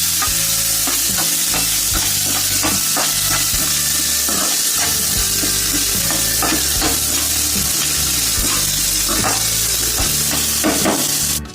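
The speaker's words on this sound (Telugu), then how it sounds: "ఇవన్నీ వేసుకొని ఫ్రై చేసుకోవాలి." Ingredients fry and sizzle in a pan for paneer curry and bagara rice, with steady loud crackling and repeated stirring scrapes throughout, no voices.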